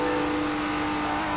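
A car engine with a dual muffler and two exhausts in the Roblox game Greenville drones at a steady, loud pitch throughout, a continuous hum with no backfiring or pauses.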